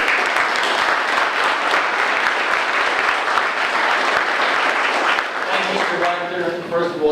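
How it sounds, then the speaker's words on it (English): An audience claps loudly and continuously at a community crime-plan gathering with Essex County officials. Near the end the applause thins out and a voice starts speaking over the fading claps. "Everyone, please give him a big round of applause."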